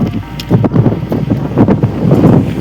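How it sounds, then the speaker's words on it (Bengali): A breeze blows beside the Ajay river on a hot sunny day, loud gusty buffeting that rises and falls unevenly across the microphone with no talking. "হাওয়াও দিচ্ছে"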